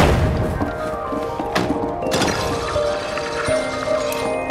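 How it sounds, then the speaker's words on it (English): Bombs exploding in the It Takes Two video game produce a series of thuds, whacks and crashing bursts of varying loudness over several seconds, with game effects in between. "They blow up."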